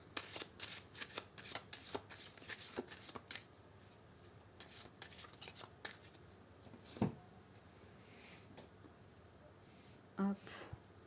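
Tarot cards handled, shuffled and laid out on a table, with a run of soft riffling slaps and snaps, then scattered quieter card taps and a couple of sharper placements near the end.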